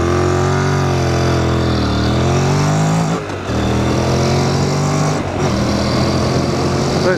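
A 2017 Honda NC750S motorcycle pulling hard from a standing start on an open road, its engine droning loudly with steadily rising revs, a brief dip at a gear change, then climbing again, heard from the rider's position.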